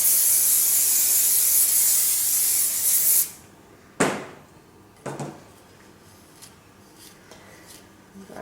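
Hairspray hisses from an aerosol can onto a ballet bun in one long, close, steady burst that cuts off abruptly, followed by a sharp click and a few quiet handling knocks.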